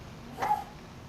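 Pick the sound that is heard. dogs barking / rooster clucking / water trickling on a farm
dogs barking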